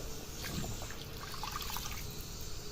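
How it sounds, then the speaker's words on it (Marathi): Water poured gradually into a village-style drumstick curry with black masala, a continuous close trickle and splash over a dense background wash, with no talking. "त्यानंतर ना बेता बेताने पाणी घालायचं"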